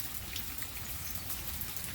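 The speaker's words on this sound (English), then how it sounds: "And even the sound of the rain" Steady rain falls outdoors in nature, an even, soft patter of drops on surfaces that holds constant throughout with no voices.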